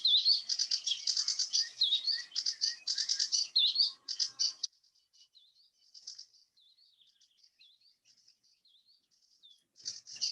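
A sedge warbler sings in summer in South Devon, a fast, busy run of scratchy chirps and varied trills, close and clear, then a quieter stretch of thin wavering notes before a brief burst returns.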